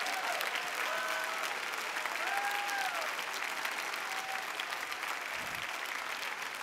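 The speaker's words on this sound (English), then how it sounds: "Would you stand to your feet and clap your hands" A church congregation stands and applauds, a steady, moderately distant wash of clapping throughout with faint whoops or tones rising over it.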